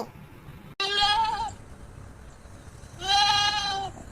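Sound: goat bleating

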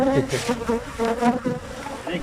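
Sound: honeybees at a beehive

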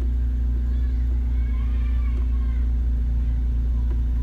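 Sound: car engine as clutch slowly released in first gear

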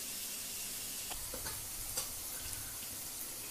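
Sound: kurdai being stirred and fried in a pan

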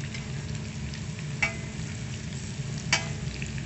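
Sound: stirring potatoes and meat in pan

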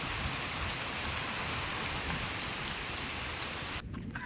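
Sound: rain falling

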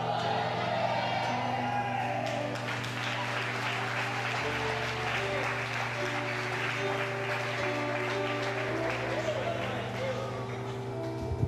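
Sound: church congregation shouting and cheering in praise

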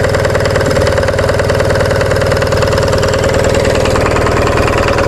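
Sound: Onan diesel generator engine running below rated speed

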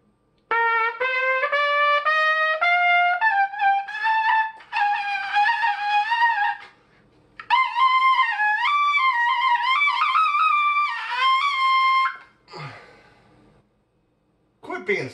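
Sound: trumpet high notes played with a weak embouchure

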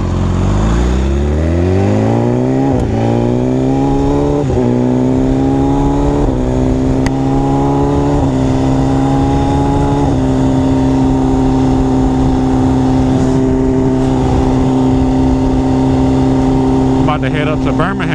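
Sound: sport motorcycle engine accelerating during a ride

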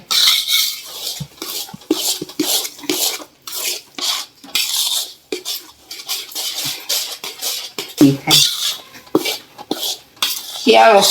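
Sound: mawa and flour being roasted and stirred in a pan

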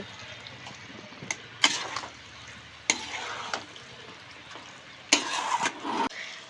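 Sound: chicken being stirred and fried with spices

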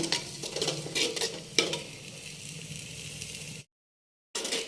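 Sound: green chickpeas being roasted and stirred in a pot

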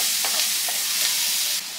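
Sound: onion sautéing in a pan for bacon casserole

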